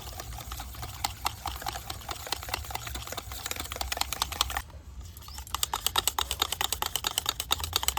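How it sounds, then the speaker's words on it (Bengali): Eggs, sugar and oil being beaten for a cake with a hand whisk, a fast steady clatter of metal wires against the bowl, briefly pausing midway before resuming in rapid even strokes, nearby and moderately loud. "একটা হুইন্সের সাহায্যে খুব ভালোভাবে মিশিয়ে নেব।"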